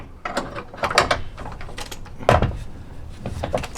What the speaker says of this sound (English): We'll use the impact wrench driver. Snug that down,